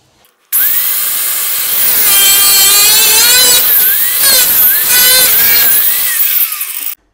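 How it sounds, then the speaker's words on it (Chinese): An angle grinder cuts through a metal stud used for framing a pipe enclosure, giving a loud, continuous high-pitched grinding whine that runs about six seconds with shifting tone as the disc bites, then stops abruptly. "其实我感觉吧，角磨机可以再往里面切一点"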